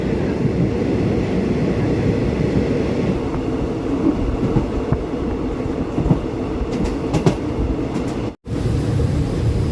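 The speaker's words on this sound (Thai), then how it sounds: "ดี๋ยวสถานีต่อไปที่รถจะจอดคือเชียงรากครับ" Thai train number 135 runs steadily on the line toward Chiang Rak station, a loud continuous rumble and rattle of the carriage heard from inside, with a brief dropout near the end.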